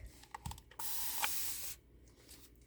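A water spray bottle gives one sustained hiss of mist, about a second long, close and fairly loud, over quiet desk sounds while crafting with thick pumpkin-colored paint.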